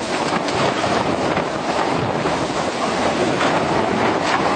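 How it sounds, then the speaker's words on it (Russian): Hurricane-force wind sweeping over the village of Staraya Taraba and a farm grain store, a loud, constant roar and buffeting across the whole span, with no voices. "Ураганный ветер такой силы впервые накрыл село Старая Тараба."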